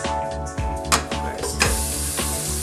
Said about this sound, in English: We're gonna start off cooking the ground beef